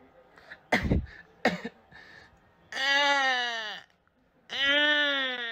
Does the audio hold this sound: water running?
no